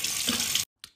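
Running tap water splashing into a sink as ice-cold water is splashed on the face, a loud continuous rush that stops abruptly, followed by a brief splash after a short silence.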